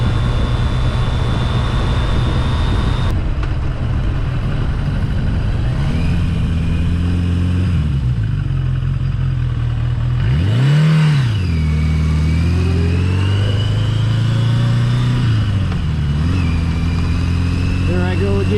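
A Yamaha XJ650 motorcycle engine revving and shifting while riding, a loud steady drone that climbs and drops through the gears with wind noise, close to the rider.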